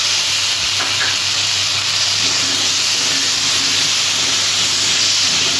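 Chopped tomato and green chili dropped into a hot pan of oil for a vegetable curry, giving a loud, steady, bright sizzle and hiss that holds unbroken throughout with no voices.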